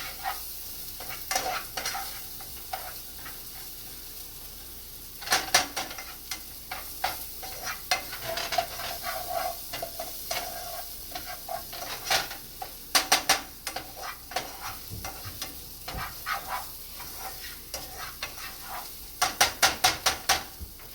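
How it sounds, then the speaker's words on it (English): Rice for Guatemalan rice is stirred and sautéed in butter in a pan, a soft continuous sizzle broken by repeated scraping and clicking strokes of the utensil, close up, clustered near the middle and end, with no voices. "You will stir it around the butter and let it get sauteed until it turns translucent."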